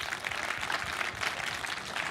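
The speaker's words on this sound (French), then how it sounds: "merci, on peut l'applaudir" Steady applause from an audience at a short-film festival closing ceremony honoring a young jury member, a continuous wash of claps at moderate level with no voices standing out.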